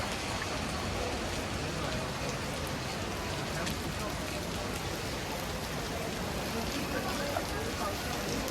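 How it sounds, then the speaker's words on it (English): Steady cold rain pours down continuously at Sensoji temple in Tokyo, a dense, even hiss of drops striking surfaces close by, with no pause for the whole stretch. "it is freezing cold and it is raining."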